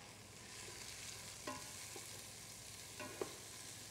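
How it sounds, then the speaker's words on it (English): A wooden spoon stirs garlic and onions in a Crock-Pot over a faint, steady sizzle, with a few soft scrapes and knocks against the pot. "Let's go ahead and give this a stir."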